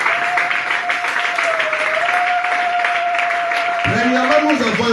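A church congregation applauds during a French and Lingala sermon, with sustained clapping over a steady held keyboard tone and a voice coming in near the end.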